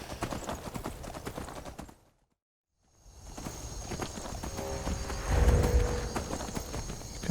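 A horse's hooves clip-clop in a steady galloping rhythm in the video game Skyrim, close and clear, cut by a brief silence before the hoofbeats resume over ambient game sound.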